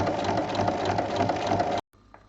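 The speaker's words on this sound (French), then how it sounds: "Et il faut piquer sur toute la longueur." A sewing machine runs steadily, stitching along the full length of a zippered pouch seam. The hum is loud and close, with a continuous mechanical whir for nearly two seconds before it stops abruptly.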